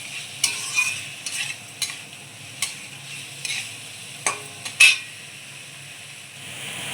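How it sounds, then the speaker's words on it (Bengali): Taro pieces being stir-fried in a pan, a steady soft sizzle broken by several short scraping stirs of a spatula against the metal, close and alone with no talk. "এবার এই যে কচুগুলো দিয়ে দেবো। দিয়ে ভালো করে কষিয়ে নেব,"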